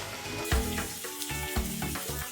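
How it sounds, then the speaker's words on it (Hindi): Eggplant frying with onions in a pan makes a bright sizzle, with several loud clanks and scrapes of a utensil against the pan. "बैगन को भी हल्का सा फ्राई कर लेंगे।"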